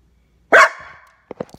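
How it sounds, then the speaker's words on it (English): A dog gives one sharp, loud bark that trails off, then a few quick, softer yips or thumps follow a moment later, nearby and with no talking. "He barks at leaves as well."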